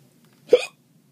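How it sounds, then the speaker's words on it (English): A single sharp hiccup, loud and close, bursts out once in otherwise quiet surroundings after a bite of an extremely hot Trinidad Scorpion Butch T chili pepper. "There we go, hiccups. The blasted hiccups."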